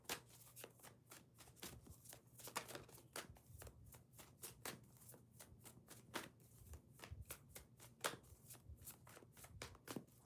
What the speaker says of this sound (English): Jeez, long shuffle.